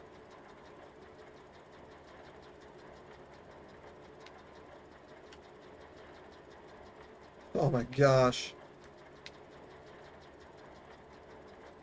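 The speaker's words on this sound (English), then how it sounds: "This tractor has so much more horsepower than the last one we had" A tractor engine in a farming video game drones steadily throughout, with a brief loud exclamation from a voice partway through.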